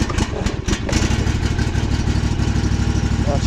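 A Cub Cadet Ultima ZT2 zero-turn mower engine idles steadily with the throttle all the way down, a close, continuous low mechanical drone with a rough, pulsing rhythm and no talk over it.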